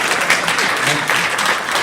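A brief burst of steady audience applause at a French auctioneers' convention on blockchain, many hands clapping densely at a constant, fairly loud level.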